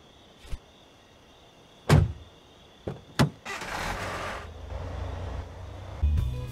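A car arrives in the Thief Simulator video game at night: a few sharp clunks and thumps like doors, then a steady engine hum and hiss rising and holding close by, with a faint electronic tone underneath.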